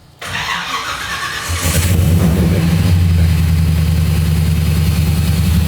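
A supercharged 600 hp 1957 Chevy engine cranks and catches, rises to a loud rev, then settles into a steady, close, deep idle with the blower whining.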